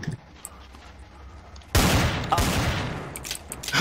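Loud burst of automatic gunfire in Counter-Strike: Global Offensive, a sudden close rapid fusillade that starts after a quieter stretch and rattles on to the end, with sharp extra shots near the close.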